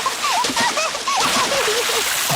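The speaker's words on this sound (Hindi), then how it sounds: "अब और कितना छिड़कोगी?" Water splashes at the beach in a cartoon, a steady bright sloshing and spraying wash that runs throughout, with gull-like cries faintly above it.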